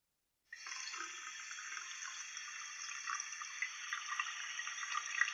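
Water gushing from a hotel bathroom tap in the game Yesterday, starting abruptly after a brief silence and then pouring steadily and fairly close, with slight splashing fluctuations, alone without talk.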